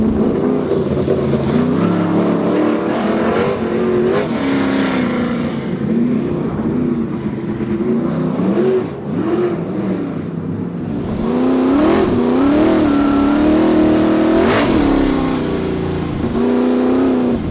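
A race car engine revs and drones loudly on track, a continuous powerful roar with shifting pitch and surging throttle blips, heard close from on board with no talking.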